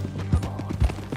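A horse's hooves clip-clop in a quick pair of close thuds in Red Dead Redemption 2.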